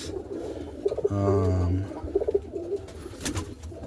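Roller pigeon in a loft at night giving one clear, sustained rolling coo, followed by softer burbling coos and faint rustling.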